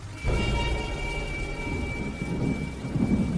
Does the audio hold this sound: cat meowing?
no